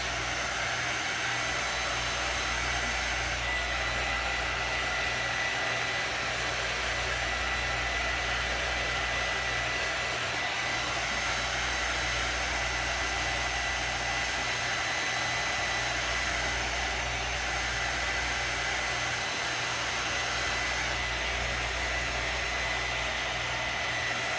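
A hair dryer blows over colored baking decorations with a steady, loud, continuous roar that holds almost unchanged throughout, with no talking.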